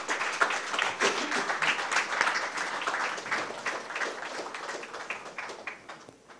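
An audience applauds a faculty coordinator at a national summit in New Delhi, with loud, dense clapping at the start that gradually thins and fades.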